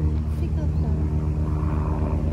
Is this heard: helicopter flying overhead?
yes